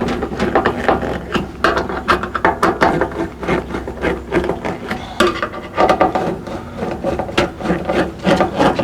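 Screws being snugged up on a furnace panel, rapid ratcheting and scraping clicks in an uneven rhythm, close and fairly loud with no speech.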